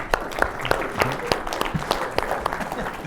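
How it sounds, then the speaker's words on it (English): Conference audience at an economics session giving applause, sparse distinct claps from a modest room, close and crisp, lasting about three seconds. "Let's give them a round of applause."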